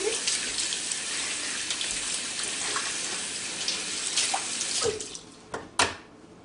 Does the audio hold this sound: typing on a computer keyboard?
no